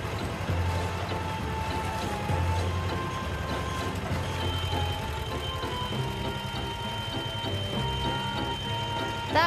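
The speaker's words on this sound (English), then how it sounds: "The beeping sound you hear is from the measuring stick." Steady electronic beeping from a concrete depth measuring stick repeats over a busy construction site with machinery rumbling and clattering in the background.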